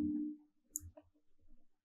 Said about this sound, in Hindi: एक क्लिक वाला साउंड इफेक्ट